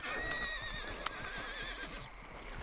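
A horse whinnies in Red Dead Redemption 2, a clear neigh rising and falling with a long, wavering tail over a steady game-world background bed, alone without talk.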